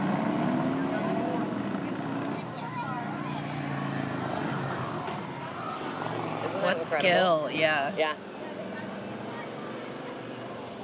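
Motorcycles ride in the Big Lake Spudfest parade, their engines whining and revving in rising, wavering bursts over a windy outdoor background as onlookers talk.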